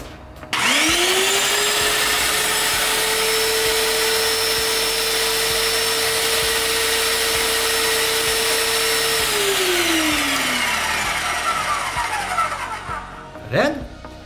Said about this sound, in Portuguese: Vou ligar e a máquina vai fazer aquele barulhinho de novo.